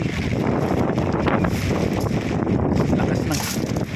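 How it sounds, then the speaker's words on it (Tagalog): Strong wind roars steadily across the microphone in Dingalan, Aurora, Philippines, a constant broadband rush with gusty fluctuations and what may be rain underneath. "Lakas ng hangin talaga, lakas ng ulan,"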